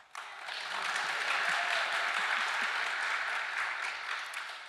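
A synagogue congregation claps at a Shabbat evening service, a steady dense wash of applause that swells quickly and holds for several seconds before easing off, with a few faint voices underneath.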